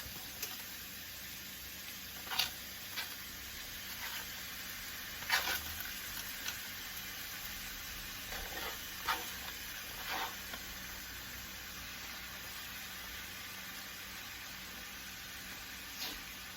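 Half a stick of butter fries in a pan, a quiet, steady sizzle and hiss with small scattered pops and crackles throughout, heard alone without talk.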